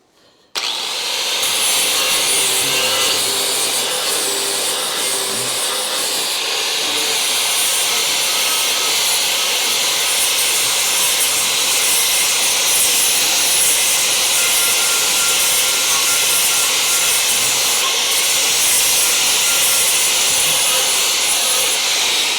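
Flap disc on an angle grinder sanding a high spot on a Dodge Charger crew cab body panel, a loud, steady abrasive whine and rasp running unbroken for over twenty seconds after a short start.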